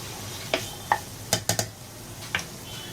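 Utensil scraping and clinking against a pan while a vegetable mixture is stirred, a handful of short separate knocks spread over a few seconds, fairly close and moderately loud with no talking.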